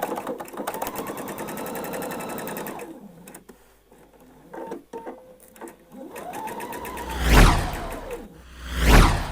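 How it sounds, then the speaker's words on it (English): A sewing machine runs down the side seam of a dress in repeated bursts, the rapid needle chatter rising and stopping, with a couple of louder whooshing handling noises near the end. "I need to stitch all the way down this side seam"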